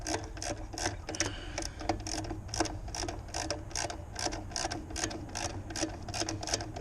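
A ratchet wrench clicks rapidly and rhythmically while loosening a belt pulley on a Jeep, a close, steady run of sharp mechanical ticks with no talk.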